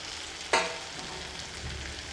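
Crumbled leftover chapati fries over high heat in a pan, a soft steady sizzle with one sharp scrape of stirring near the start.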